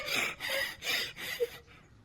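Throat clearing: four harsh, breathy rasping bursts in a row, close and raspy, the last one weaker and trailing off.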